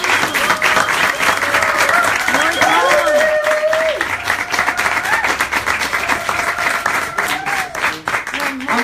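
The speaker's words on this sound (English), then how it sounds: "please just give yourselves one last round of applause for being here" Loud, dense applause from a concert audience fills the room at the close of a show, with cheers and voices mixed in and a few whoops rising over the steady clapping.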